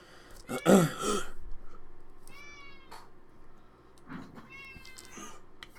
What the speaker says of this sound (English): you irritating cat